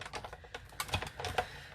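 A die cutting machine creaks and crackles as dies and plates run through it, giving a rapid, irregular run of close, dry clicks and snaps that continues throughout, heard without talking.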